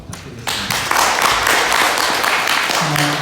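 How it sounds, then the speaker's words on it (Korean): Audience applause at an academic conference on Sunmudo, a Korean meditative martial art, breaking out after a presenter is introduced: steady crowd clapping that swells and holds throughout, filling the hall. "박수 부탁드리겠습니다."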